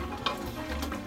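Carrots and peas fry in a pan with a soft, steady sizzle and faint crackle, quiet and close, with a brief stir-like scrape near the start.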